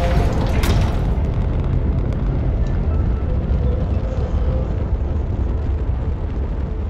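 Rocket launch in the Astroneer video game, a loud sustained rumbling roar that holds steady throughout, with a brief crackling burst near the start and no talk over it.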